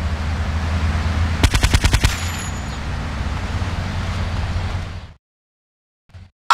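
In Grand Theft Auto Vice City Stories, a short automatic burst of about eight rapid, sharp gunshots rings out over a steady traffic rumble, followed by sudden silence.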